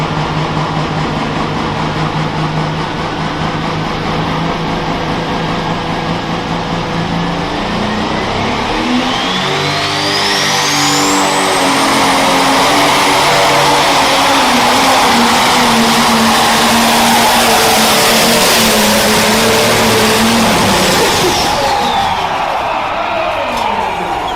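A pulling tractor at a tractor pull roars through a full run, a loud sustained engine howl with rising pitch as it accelerates and a long turbine-like whine building midway, continuous and close.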